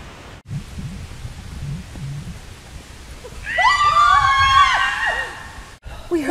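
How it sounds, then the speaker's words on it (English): A person lets out one loud, high, wavering scream lasting about two seconds in the middle of a Halloween Bigfoot skit, preceded and followed by quiet rustling and low background noise. "We heard you screaming."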